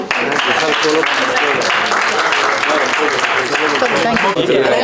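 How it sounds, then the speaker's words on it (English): An audience at a fashion week runway show gives steady, sustained applause throughout, loud and continuous, mixed with some cheering voices. "A little applause for that wonderful show."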